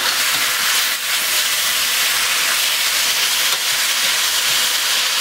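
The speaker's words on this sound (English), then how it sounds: "Stir fry this off here for a minute." Red sweet pepper stir-frying for Thai drunken noodles (pad kee mao), a steady loud hiss and sizzle from the hot pan running without a break, with no one talking.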